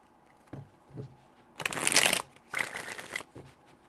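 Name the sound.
shuffling tarot cards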